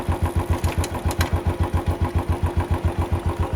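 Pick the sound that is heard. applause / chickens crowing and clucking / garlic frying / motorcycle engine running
motorcycle engine running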